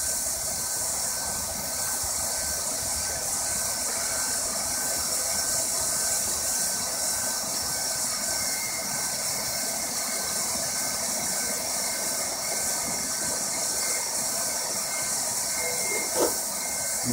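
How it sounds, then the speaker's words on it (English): An automatic heat welder runs along a vinyl floor seam, giving a steady loud mechanical whirring and blowing hum that continues unbroken throughout, with no talk. "The welder is going to make up for all that."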